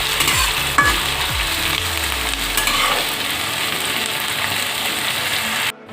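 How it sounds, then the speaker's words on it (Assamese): Sliced onions frying in hot mustard oil for a chicken curry, a steady loud sizzle with scraping and rattling strokes as they are stirred in the pan. "পিঁয়াজখিনি অলপ ৰঙা হোৱাকৈ ভাজি ল'ম।"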